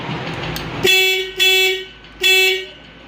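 Three loud electric rickshaw horn toots, each a steady buzzing tone lasting about half a second, sounding close by after a short quiet stretch.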